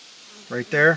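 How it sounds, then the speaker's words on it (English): Faint buzzing of flying insects hangs in the background outdoors by an old train car at the edge of a forest, with someone speaking briefly over it in the second half. "Sorry for the bug noise if there is any."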